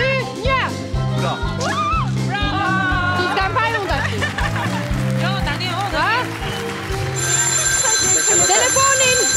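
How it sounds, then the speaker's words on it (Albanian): A telephone rings with a steady electronic tone during a lively Albanian TV entertainment show, half buried under excited talking, children's voices and background music until it sounds clearer near the end. "Telefonin! O brefë."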